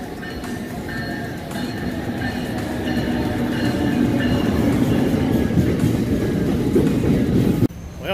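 Steady rumble and rattle of a train bound for New York City rolling on rails, with faint squealing tones, continuous and close, with no talking.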